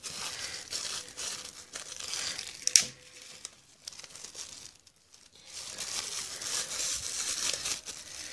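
A plastic bag crinkles and rustles close by in bursts, with a sharp crackle partway through, a brief quiet gap, then renewed crinkling; no talking.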